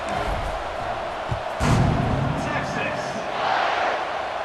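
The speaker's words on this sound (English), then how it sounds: "this crowd is buzzing after that last score" A stadium crowd in the video game EA Sports College Football 26 buzzes as a dense, continuous roar after a touchdown, swelling slightly midway with faint cheering.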